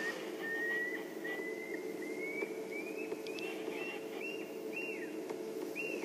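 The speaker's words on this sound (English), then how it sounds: "you hear that little pearl-spotted owl." A small pearl-spotted owl calls on a safari drive, giving a rising series of thin whistled notes that repeat steadily over a constant engine-like hum.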